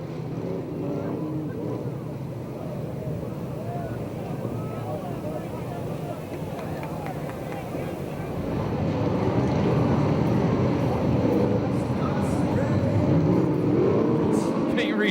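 USAC/CRA sprint cars racing at Perris, California, a distant, continuous engine roar that swells louder toward the end, heard under a public-address announcer.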